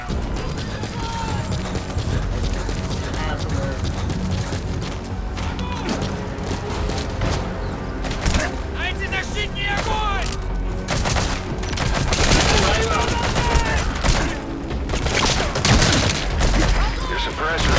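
Rapid bursts of gunfire from Metal Gear Solid V The Phantom Pain, dense and continuous across the whole stretch, mixed with running, crashes and game effects while a player talks over the action.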